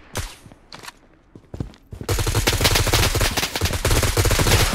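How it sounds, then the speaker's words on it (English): Gunfire in the shooter game Project BloodStrike: a few scattered single shots, then a loud, sustained burst of rapid automatic fire with tightly spaced cracks continuing to the end. "Taking fire!"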